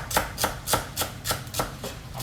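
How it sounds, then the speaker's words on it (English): Knife chopping celery leaves on a cutting board for chicken pelau, seven or eight crisp, evenly spaced close-up chops in a steady rhythm, with no voices. "I'm chopping up the leaves and everything."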